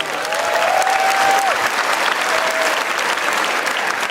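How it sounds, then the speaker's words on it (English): Large pageant audience applauding contestants after a swimsuit competition, a loud, sustained roar of clapping from a big hall with a faint whistle near the start and no speech over it. "Let's give our contestants another round of applause"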